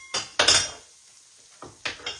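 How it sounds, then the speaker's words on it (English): Spoon scraping and clinking around a cooking pan while stirring breakfast, two quick metallic scrapes, a pause, then two more, close and fairly loud. "I'm going to stir it around in there."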